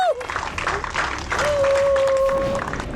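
Ladies cheer and clap for a food truck team at a cooking reality show, a lively burst of clapping and a rising whistle-like cheer, with voices calling out over it.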